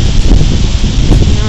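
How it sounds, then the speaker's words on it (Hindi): Strong wind gusting outdoors behind a house with a garden area, a steady loud rush of buffeting noise across the whole stretch with small rises and falls, no voices. "बहुत ही तेज़ हवा चल रही है सुबह से, पता नहीं क्यों।"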